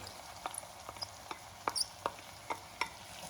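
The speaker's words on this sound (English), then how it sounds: "in goes 2 leeks that I finely shredded" Finely shredded leeks go into hot garlic butter, with scattered crackles and soft stirring taps over a faint, quiet sizzle.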